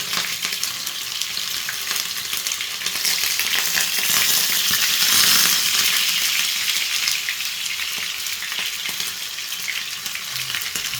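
Fish frying in oil in a pan for a Tamil meen varuval, a steady loud sizzle and hiss that swells in the middle and holds throughout, with no talking.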